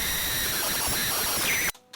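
A sharp, oiled drill bores into a Hella headlight reflector clamped in a vise with soft jaws, making a steady, close whine that stops abruptly near the end.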